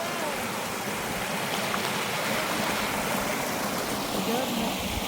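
A cold mountain meltwater stream near Lecco, Italy flows with a loud, continuous rushing wash, steady and close.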